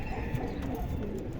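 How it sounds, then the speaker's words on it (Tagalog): Racing pigeons in a loft area in Pililla, Rizal, cooing softly and continuously amid steady low background noise, with no clear voices over the sound. "Kalapati yan guys."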